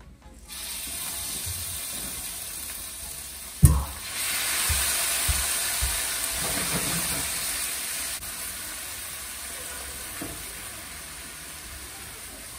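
Sauce poured slowly into a hot pan over low heat sizzles with a steady, soft hiss, broken by a few sharp clinks and bumps of utensils.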